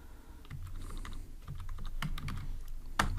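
Typing on a computer keyboard while writing Android code: a quick run of light, close key clicks with irregular rhythm and one sharper tap near the end, alone with no voices.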